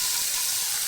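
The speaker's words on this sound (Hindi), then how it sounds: "इसको तड़का लगा रही हूँ" Onion, green chili and tomato dropped into hot mustard oil with cumin, giving a loud, continuous close sizzle and hiss with no talking over it.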